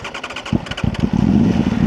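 A 2026 Aprilia Tuono V4 Factory motorcycle engine cranks and catches, settling into a loud, throaty idle close by.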